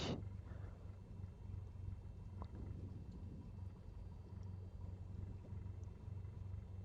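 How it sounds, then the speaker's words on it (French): Simulated Cessna 172SP piston engine idling at low throttle in Microsoft Flight Simulator 2020, a steady low drone with a faint rhythmic pulse, continuous and alone without talk. "on va remettre la puissance tout à fait au ralenti et vérifier que le moteur ne cale pas avec les gaz au ralenti"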